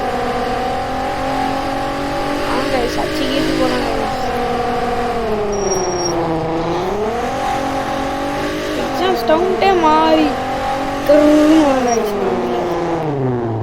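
Car engine in the Taxi Sim Evolution video game, revving and shifting pitch as it drives fast, with a rising and falling engine tone, while someone talks over it throughout.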